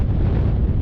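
Strong wind gusting outdoors at a scenic rocky lookout while truck camping, a loud, dense low roar buffeting the microphone continuously with no other sounds.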